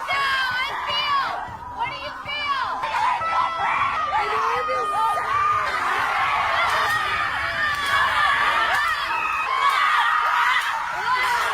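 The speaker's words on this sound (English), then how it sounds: "have a screaming session where they bash sticks" A group of people screaming and wailing together while bashing sticks into the ground in an emotional release session, a loud, continuous mass of overlapping shrieks and yells throughout.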